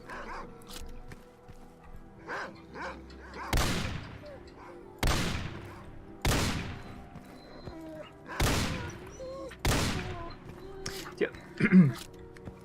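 Shotgun blasts in S.T.A.L.K.E.R.: Call of Pripyat, five heavy booms at spaced intervals, each with a sharp attack and a decaying tail, with quieter game noises and someone talking between the shots.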